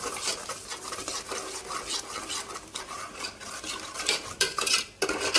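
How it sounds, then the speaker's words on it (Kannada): A spoon stirs a peanut and tomato sambar mixture frying in oil in a pot, with steady close scraping and clinking of metal against the pan and a few sharper knocks near the end. "ಇದನ್ನು ಮಿಕ್ಸ್ ಮಾಡೋಣ್ರಿ ಚೆನ್ನಾಗಿ ಎಣ್ಣೆ ಫ್ರೈ ಆಗಲಿ"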